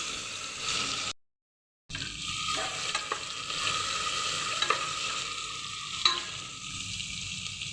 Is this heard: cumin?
yes